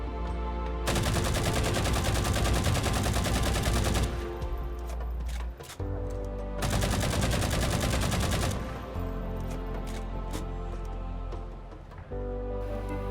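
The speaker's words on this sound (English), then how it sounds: "the MA40 sports a 36-round magazine, faster fire rate, and a tighter bullet spread. It also sports the Halo 4 firing sound" The MA40 assault rifle with its Halo 4 firing sound, in a Halo: Reach PC mod, fires two long, loud, sustained automatic bursts, each several seconds, with lighter shots between them.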